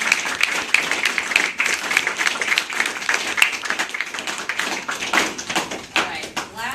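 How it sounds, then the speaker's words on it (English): Audience applause at a ward candidate forum on climate resilience, uneven clapping from a smallish crowd with distinct individual claps, fairly close and moderately loud. "let's just give another round of applause."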